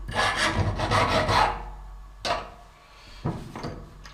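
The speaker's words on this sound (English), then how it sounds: "It's awfully small, so it's going to be a lot of jiggling in the file and the vise." A hand file rasps across a small part clamped in a vise, a burst of quick back-and-forth strokes followed by a few separate scrapes after a pause, close and fairly quiet.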